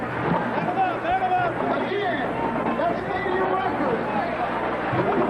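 A crowd of tens of thousands in the stands at a 1988 Howard versus Florida A&M homecoming football game at Bragg Stadium, with a steady, dense murmur of chatter and cheering that holds throughout at moderate loudness.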